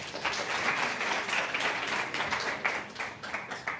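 A student audience at an entrepreneurship week applauds after a group presentation, a brief, fairly dense round of clapping from a modest crowd that holds steady and tapers slightly at the end.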